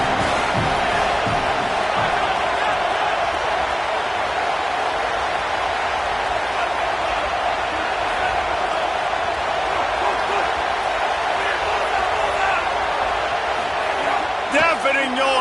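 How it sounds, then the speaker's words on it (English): A dense, roaring video game college football stadium crowd fills the whole stretch at a constant loud level during a third-down red zone play, with a faint voice talking over it. "this crowd is at fever pitch"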